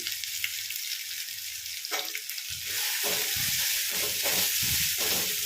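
Ginger garlic paste frying in a pan with turmeric for a cauliflower tomato curry, a steady bright sizzle that grows louder midway, with irregular stirring scrapes and clatters over it, no talking.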